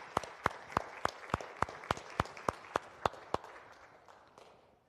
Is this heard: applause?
yes